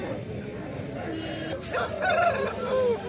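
At a country chicken market, a rooster crows close by, its rising cry standing out over a steady background of crowd noise and chatter.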